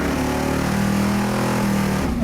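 A custom-built car of roughly 2,000 horsepower pulls away with a loud, steady engine roar that holds close and constant throughout, its deep drone rising slightly near the end.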